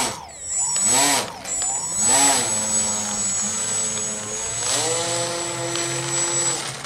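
A small electric RC vehicle's motor whines through the yard, its pitch sweeping up and down in repeated bursts as it speeds up and slows, fairly close and with no talking.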